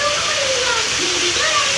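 Rushing water floods in during a Roblox game, a steady broadband roar that holds at even loudness for the whole moment, with faint voice-like tones beneath it.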